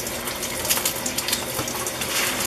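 Tap water running steadily into a sink while beets are washed, a close, continuous gushing splash with small shifts in flow, with no voices.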